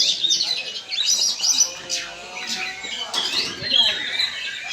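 Songbirds chirping at a bird singing contest in Meulaboh, bright repeated tweets and calls overlapping close by, with people talking in the background.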